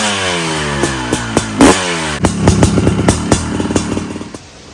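A Honda CR500 two-stroke engine fitted in a 2021 CRF 450 motocross bike blips and revs in sharp bursts, then settles into a crackling, uneven idle, loud and close with no talk.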